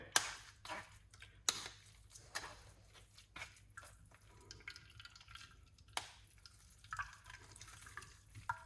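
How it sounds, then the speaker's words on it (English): Liquid is squeezed out of blended pulp, dripping and splattering in a few irregular, fairly quiet spurts and trickles, close by with no talk over it. "you just want to make sure you squeeze out all of that liquid out of it"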